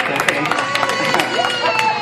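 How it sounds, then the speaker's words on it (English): A small crowd claps together for the demonstrator's family at a Sam's Club product demonstration, a brief burst of scattered hand claps layered with a voice talking over it. "Let's give my family a round of applause for helping me out today"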